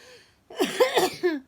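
A short burst of hoarse coughing and throat clearing, close and fairly loud, coming in several quick rasping bursts after a brief quiet moment.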